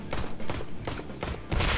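Gunfire in the motorcycle game Ride To Hell: Retribution, a series of sharp, evenly spaced shots at moderate volume over a steady background rumble.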